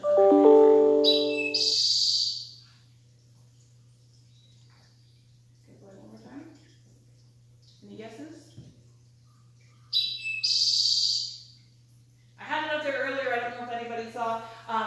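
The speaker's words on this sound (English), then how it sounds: "That was an eastern towhee." An eastern towhee song plays twice: a few clear notes followed by a bright, buzzy trill, with a quiet pause between the two phrases.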